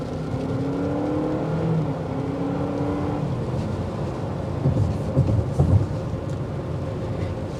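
Inside a 2023 Honda CR-V Sport Hybrid, a steady powertrain hum rises in pitch during the first few seconds of acceleration on a test drive, then settles into a constant road rumble.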